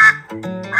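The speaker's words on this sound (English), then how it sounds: "Ah, it's a duck." One loud, close duck quack, a short nasal honk rising and falling within under a second, heard alone.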